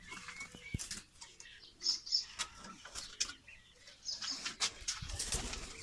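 Soft pigeon cooing mixed with brief wing flaps and scattered small bird chirps, fairly quiet and close, with no talking.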